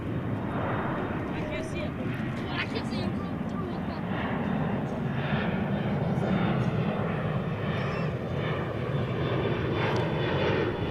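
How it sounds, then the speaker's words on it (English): Boeing 777 on final approach at DFW Airport, a steady broad engine roar that holds loud throughout, with a person talking over it. "we got a 777 on final from Roma"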